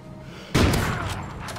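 A single sharp, heavy sniper rifle shot in Call of Duty: Ghosts, a sudden loud crack with a booming tail that rings out and decays over about a second.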